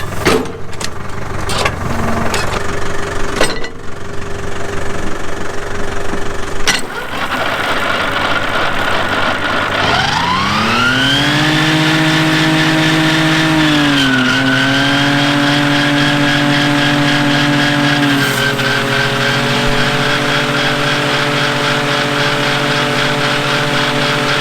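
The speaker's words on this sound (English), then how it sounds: "Done a couple of laps of the tractor" A farm tractor driving laps while cutting grass on a dairy farm, its engine a steady loud drone that climbs in pitch as it revs up partway through, then holds a sustained working note with no talk.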